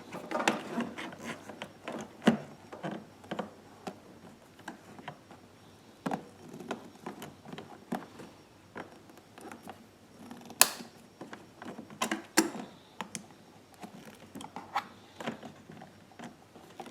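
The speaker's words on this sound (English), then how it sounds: "Just trying to get that hose clamp down just a little tighter." Hose clamp being tightened on a Wen 4800 generator's extended run fuel kit, a series of faint, irregular clicks and small metallic ratcheting taps close up, with no talking.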